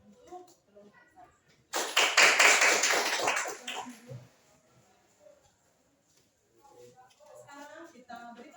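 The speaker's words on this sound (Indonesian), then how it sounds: "Kita berikan tepuk tangan untuk kelompok satu." A classroom audience applauds for the first presentation group at a Catholic teacher-training session in Semarang, a loud burst of clapping lasting a couple of seconds that fades into quiet, with speech before and after.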